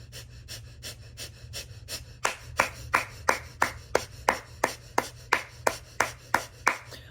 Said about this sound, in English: you can pick it up and breathe out softer